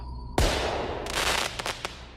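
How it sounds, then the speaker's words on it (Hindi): A sudden loud bang bursts out, followed by a rolling roar and a few sharp crackling pops as it fades. "एक बहुत ही जोर के धमाके की आवाज आई"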